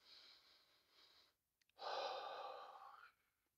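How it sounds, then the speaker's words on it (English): Slow nasal breathing during a seniors' warm-up drill, a soft steady inhale followed by a fuller, louder exhale, close and alone with no talk. "trying breathing through your nose."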